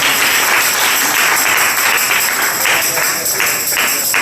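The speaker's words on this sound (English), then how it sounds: "Clap your hands and give it praise." Congregation clapping in praise at a church Bible study, loud sustained applause with a faint rhythmic pulse, steady for the whole stretch.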